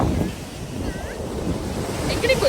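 Sea waves wash onto a sandy shore where people hunt clams and sand crabs, making a low, rolling roar buffeted by wind on the microphone, with faint voices in the background.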